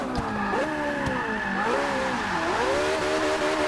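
A race car drifting in Forza Motorsport 6, its engine note rising and dipping steadily as the car slides, with tire squeal under the revving and no talk.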